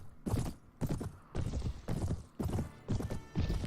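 Horse hooves clip-clopping in Mount & Blade Warband, a steady galloping rhythm of repeated hoofbeat bursts, loud and close, with no talk over them.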